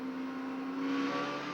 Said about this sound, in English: Every time you get on the accelerator, you can hear the gears whining like that.